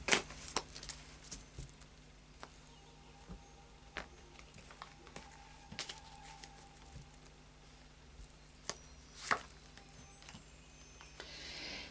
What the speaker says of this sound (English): So I'll just do a final shuffle